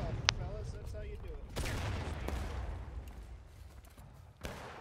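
Musket gunfire in the War of Rights video game, a sharp close shot followed by scattered distant volleys and rumbling fusillades on a battlefield, with faint voices in the background.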